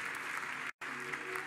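Church congregation applauding and cheering in a broad, continuous wash of clapping, briefly cut by a moment of silence before resuming at the same level.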